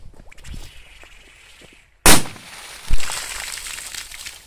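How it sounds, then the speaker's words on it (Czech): After a short stretch of quiet rustling, a sharp bang from a Doom Boom firecracker thrown into a puddle rings out, followed moments later by a second dull splashing thud. "Máme tady petardu Doom Boom a uvidíme, co to udělá s kaluží."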